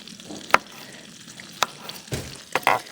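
Onion sizzling and being stirred in a pan for potato soup at a campsite: faint crackle broken by a few sharp scrapes and clinks of a utensil, with no talk.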